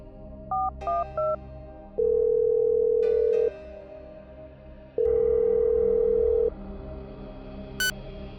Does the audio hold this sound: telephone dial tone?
yes